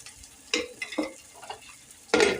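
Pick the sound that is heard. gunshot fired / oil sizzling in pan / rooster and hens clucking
oil sizzling in pan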